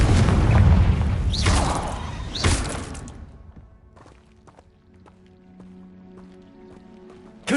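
Two loud blasts from the Confringo fire spell in Hogwarts Legacy, each a booming burst with a rushing whoosh, give way to a quieter stretch of small clicks, footsteps and a low hum, then another sharp hit at the end.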